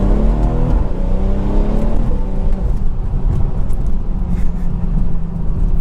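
A BMW 340i with a Stage 2 tune is driven on snowy roads, its engine holding a loud, steady drone with shifting revs and a gear change early on, under constant road and cabin noise.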